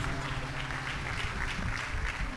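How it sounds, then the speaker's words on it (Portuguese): A church congregation applauding, a steady dense wash of many hands clapping together that sounds moderately distant and lasts the whole stretch, with some voices faintly mixed in. "salva de palmas para Jesus"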